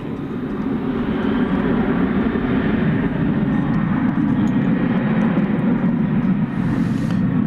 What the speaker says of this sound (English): About to take off for Reno, Nevada, American 1273.